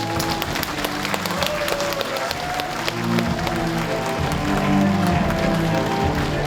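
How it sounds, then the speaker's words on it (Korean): Audience applause at a Korean city mayor's talk concert, steady clapping filling the whole stretch at moderate loudness, with faint voices and stage sound underneath. "여러분 큰 박수로 시장님 모시겠습니다. 박수 부탁드릴게요."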